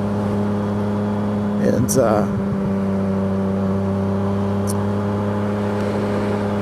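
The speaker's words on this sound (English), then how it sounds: "I love the sound of this exhaust." A car's exhaust drones as a steady, low, even hum from inside the moving vehicle, with a brief burst of other noise and a single spoken word near the start.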